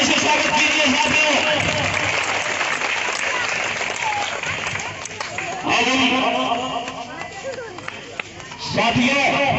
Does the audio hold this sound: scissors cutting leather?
no